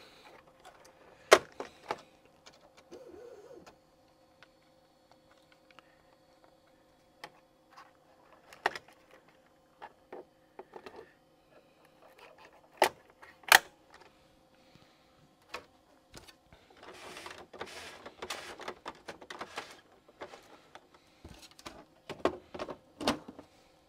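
An Apple ImageWriter II dot-matrix printer from 1987 feeds in paper with intermittent motor whirs, clicks and mechanical ticks, quiet and close, with longer grinding feed runs later and short pauses between.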